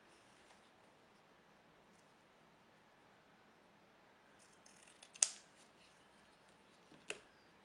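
Scissors snip through fabric from a sewing kit in a quiet room: two short, crisp cuts a couple of seconds apart, sharp and close, with only faint rustling between them.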